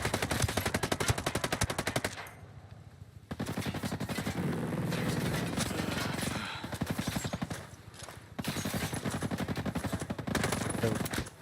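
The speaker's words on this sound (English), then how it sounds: "they're shooting at you" Enemy gunfire in a shooter video game, with sustained rapid automatic bursts that break off briefly and then resume, heard at moderate distance for several seconds.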